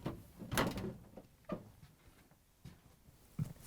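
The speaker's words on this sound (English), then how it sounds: "So now we need to open the doors." Whirlpool/KitchenAid/Maytag refrigerator doors being opened, a few separate knocks and thumps of the doors and cabinet spread over a few seconds, fairly close, with no talking.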